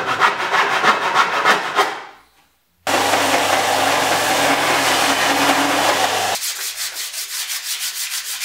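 Hand saw cutting through wet wood with quick, rasping back-and-forth strokes, close and loud, broken by a brief silence and a stretch of steadier grinding before the rhythmic strokes resume.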